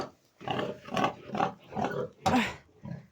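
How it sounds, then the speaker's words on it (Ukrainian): Sows in a pen grunt close by in five or six rough, throaty bursts spaced about half a second apart, loud and unaccompanied by speech. "От вам і свиноматки."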